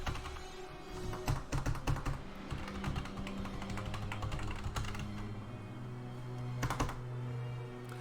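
Someone types on a computer keyboard, fairly quiet, with rapid bursts of clicking keystrokes in clusters separated by short pauses over a faint steady hum.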